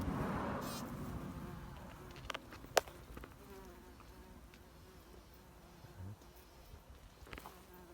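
A greenhouse bumblebee collecting pollen buzzes faintly nearby, a thin insect drone over quiet outdoor background with a few soft clicks and rustles, no talk.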